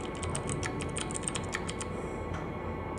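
Rapid typing clatters on a computer keyboard, a dense run of light key clicks over a steady low background hum, close and continuous.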